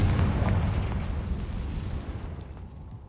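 A Confringo fire spell in Hogwarts Legacy bursts with a heavy rumbling boom that rolls on and slowly fades over a few seconds, loud and close.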